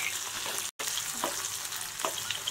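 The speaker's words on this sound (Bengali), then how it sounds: "পেঁয়াজ কুচি আদা কুচি, সেগুলো আমার প্রায় এরকম ভাজা ভাজা হয়ে গেছে" Chopped onion and ginger fry in a pan for a Bengali-style shrimp curry, giving a steady, close, broadband sizzle with a few soft stirring scrapes and a brief dropout to silence early on.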